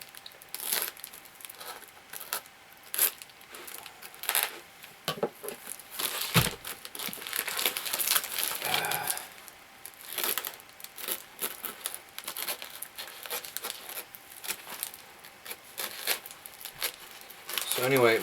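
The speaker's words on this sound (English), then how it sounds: "It's all tape and foam, and I don't want to cut into whatever's in there." A taped-up package wrapped in tape and foam is carefully cut open with a very sharp Ontario knife, giving steady crinkling, tearing and scratchy rustling close up, with irregular snips and scrapes throughout.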